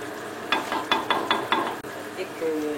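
Moroccan kefta tajine cooking in a pan with eggs, a steady sizzle under a run of five or six quick scraping stirs from a utensil, close by, with no talk.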